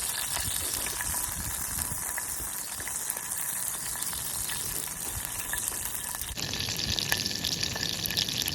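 Crawfish fry in a little oil beside a creek, making a dense, continuous hiss and crackle that stays even and close throughout, with no talking.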